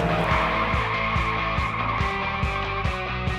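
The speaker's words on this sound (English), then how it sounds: "Can you hear the exhaust?" Loud Abarth car exhaust roars and rises in repeated bursts as the engine accelerates through gears on a track, steady and close, with a sharp rasp on each rev.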